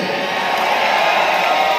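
A stadium crowd at a Janmashtami Matki Phod festival event roars with loud, continuous cheering and shouting that fills the whole moment, close and dense, with no pauses.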